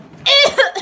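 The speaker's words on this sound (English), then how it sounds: "How long have you had that cough?" A man gives a single short, sharp cough close up in a damp cellar crusted with niter, followed by a softer catch of breath.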